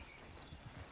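Horse hooves clip-clop steadily in a video game, faint and low in the mix under a dense wash of background sound, with no clear voices.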